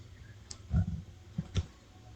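Computer mouse clicking on a color picker in CapCut on PC: a few faint, sharp clicks spaced irregularly over a quiet background, close to the microphone.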